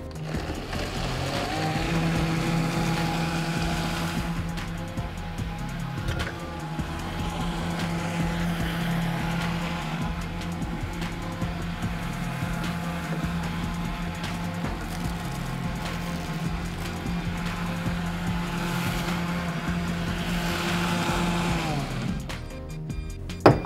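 An electric blender crushes ice for a lemon-mint smoothie, a loud, steady motor whine with grinding and rattling that runs continuously for over twenty seconds before stopping abruptly.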